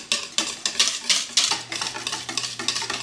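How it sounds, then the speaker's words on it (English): Eggs and wet ingredients whisked in a bowl for a high-protein fall meal-prep recipe. The whisk makes rapid, rhythmic, close scraping and tapping strokes that stay loud and steady throughout, with no one speaking. "we can finally whisk all of this together. Make sure we get those eggs all whisked."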